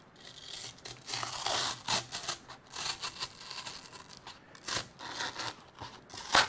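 Backing strip being peeled off a Festool Domino XL 700 joiner, a series of close, crisp rustling and crinkling scrapes in bursts with short pauses between, no voices.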